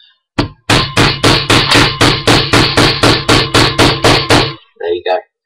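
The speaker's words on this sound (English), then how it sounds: "what you do is you just gently hammer it down" Blaster part of a Nerf Maverick being hammered into place, about fifteen sharp even hammer blows in quick steady succession that grow slightly harder, followed by brief speech.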